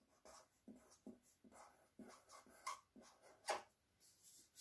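Pen or marker writing words onto a paper craft strip, a series of faint scratchy strokes in an irregular rhythm, close up and quiet with no talking.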